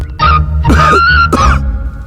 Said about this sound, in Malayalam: എന്താ, ചുമയുണ്ടോ?